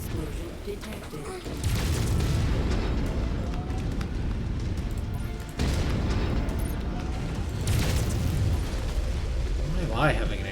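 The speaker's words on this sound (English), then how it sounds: "Why am I having an ammo explosion?" Mech ammunition cooking off in MechWarrior 5, heavy booming blasts that erupt in bursts with rumbling crackle between them, loud and close amid battle noise.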